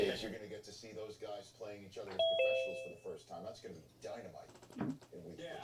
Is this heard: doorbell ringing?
yes